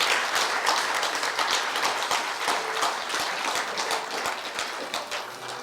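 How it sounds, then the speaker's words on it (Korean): Audience at a Korea University honorary doctorate ceremony applauds steadily throughout, a dense, even patter of many hands clapping from a large crowd. "큰 박수로 함께 축하해 주시면 감사하겠습니다."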